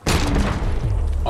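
A loud, sustained blast from a bomb explosion in Dead Island 2 fills the space with a deep rumbling roar that holds steady after the initial burst, set in a tight enclosed area.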